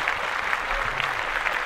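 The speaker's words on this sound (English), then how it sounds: "Clap that up." A brief, even wash of applause, a steady crowd clapping that sounds like a dropped-in effect, with no voices over it.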